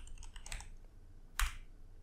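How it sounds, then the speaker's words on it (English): Keys tapped on a computer keyboard during PC troubleshooting, a short cluster of quiet clicks followed by one sharper keystroke near the end, close and faint with no talk. "you're going to type in prefetch"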